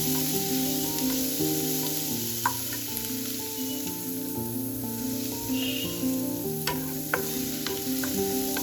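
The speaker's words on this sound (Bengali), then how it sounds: "দিয়ে দিচ্ছি পেঁয়াজ, তার সাথে কাঁচা লঙ্কা কুচিয়েগুলো দিয়ে দিলাম। এবার এইগুলোকে একটু ভালোভাবে ভেজে নিতে হবে।" Chopped onion and green chillies fry in a pan with a steady hissing sizzle, while a melodic background tune plays throughout and occasional clicks of stirring stand out.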